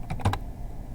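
A few quick keystrokes on a computer keyboard, a short burst of three or four close clicks followed by quiet.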